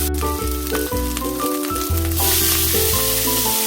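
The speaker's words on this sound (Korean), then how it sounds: "중약불에서 식용유 두 큰술 넣고 썰어둔 햄을 넣고 살짝 볶아서 햄 기름을 내줍니다" Sliced ham sizzles in two spoonfuls of cooking oil over medium-low heat, a steady frying hiss running underneath louder background music.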